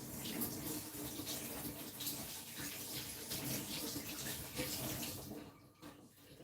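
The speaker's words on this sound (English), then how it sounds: "So give them a good wash." Tap water pours steadily while fresh herbs such as rosemary are rinsed under it, a continuous close splashing rush that thins and cuts off near the end, without talking.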